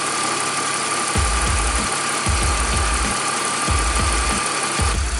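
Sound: BMW Z4 engine idling during coolant bleeding

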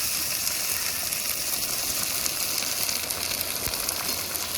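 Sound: ginger, garlic and green chili paste frying in a pan

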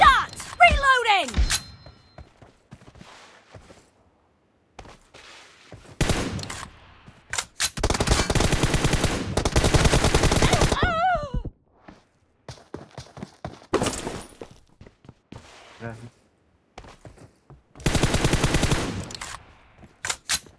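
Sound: gunfire and reloading in the video game PUBG

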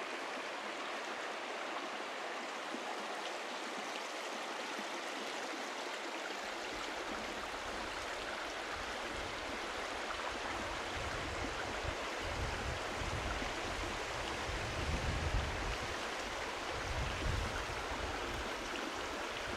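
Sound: flowing river

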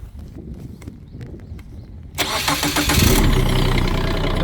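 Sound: Kubota 1-ton mini excavator engine starting

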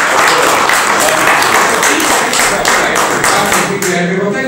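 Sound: applause for Peppino

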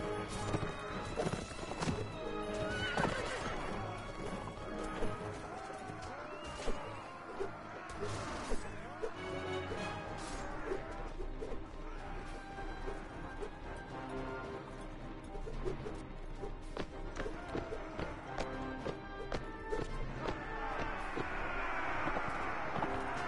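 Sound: horses neighing and clip-clopping in a video game

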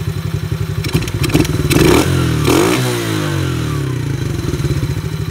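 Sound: cheap Chinese ATV engine revving

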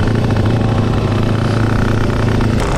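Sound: motorcycle engine with KBRS racing exhaust

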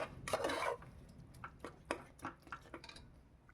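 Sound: stirring yogurt into chicken curry in a pressure cooker

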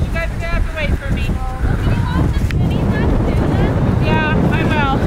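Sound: wind

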